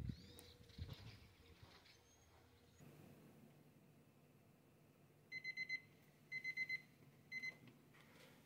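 Kitchen timer alarm beeping while chai simmers with Tata Gold tea, in three short bursts of rapid electronic beeps in the last few seconds after quiet kitchen noise, fairly close and clear.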